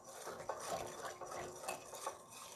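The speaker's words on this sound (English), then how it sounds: "I'm going to whisk this until the sugar has sort of dissolved a bit." Whisk scraping and tapping around a bowl as granulated sugar is beaten into sweetened condensed milk for key lime pie filling, a steady close rhythmic stirring with a few sharper clinks against the bowl.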